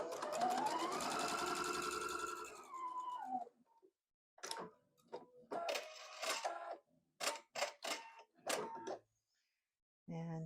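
A sewing machine stitches fabric triangles onto a quilt block, a steady whirring run for about three seconds, then short stop-start bursts follow, with a person talking between them.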